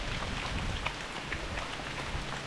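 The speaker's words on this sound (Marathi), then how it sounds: "संध्याकाळ झालाय आहे आणि पाऊस पण चालू आहे" Steady evening rain pours down in a village, an even, dense hiss of drops on surfaces with no voices, moderately loud and unbroken throughout.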